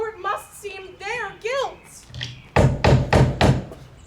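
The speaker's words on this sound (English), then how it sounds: "Whence is that knocking?" Four loud, evenly spaced knocks on a door ring out during a stage production of Macbeth, following a stretch of spoken dialogue from an actor.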